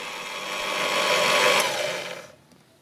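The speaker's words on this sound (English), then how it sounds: "Use a drill press to adjust the holes for the shaft and the screws." A drill press boring out shaft and screw holes in 3D-printed plastic motor parts at low speed, giving a steady whirring grind that swells and then cuts off, heard alone with no voices.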